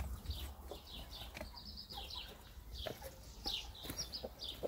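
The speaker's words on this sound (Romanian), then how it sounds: "Găina mea vracană." Brakel hen at a small farm, soft repeated clucks with chirpy bird calls around it, faint and close amid outdoor farmyard ambience with no talk.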